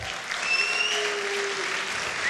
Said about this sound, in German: Also vor dem Trailer nochmal einen fetten Applaus für die beiden Teams,